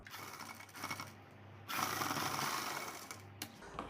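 A sewing machine stitching down a folded blouse zipper, running in close mechanical bursts with a short pause, rattling and whirring steadily, with no voices.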